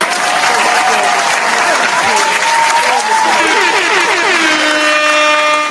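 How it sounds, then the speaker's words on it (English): Loud, continuous applause and cheering on a talk show, topped by long blaring air-horn blasts that sweep and slide in pitch, the horns sustaining clearly toward the end. "we got to clap it up"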